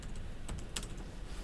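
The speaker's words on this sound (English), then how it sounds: "keep on making that dumb typing thing" Several quick keystrokes on a computer keyboard during a class review session, soft scattered clicks over a steady background hum, with no one speaking.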